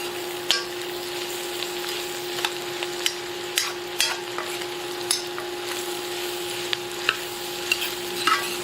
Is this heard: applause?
no